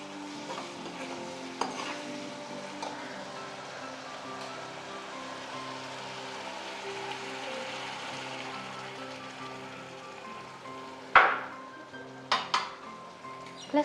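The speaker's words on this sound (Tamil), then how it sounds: "இப்போ இதில் கொஞ்சமாக புளி தண்ணி விடணும்." Tamarind water added to pirandai kulambu in a pan, setting off a steady soft sizzle, with a few sharp stirring clatters against the pan near the end.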